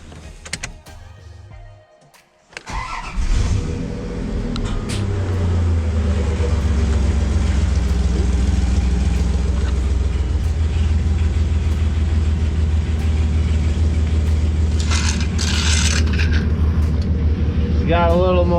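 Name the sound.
Dodge Dakota truck engine running after repair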